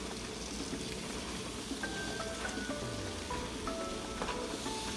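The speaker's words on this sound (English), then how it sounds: "Okay, once it's boiling, we're gonna turn it down to low. We want it low once it's already boiling like this." Water boils in a pot on the stove as rice is cooked for a chiles rellenos meal. Dense, steady bubbling and crackling continues throughout with a few faint clinks and no voices.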